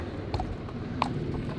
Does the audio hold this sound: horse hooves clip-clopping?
yes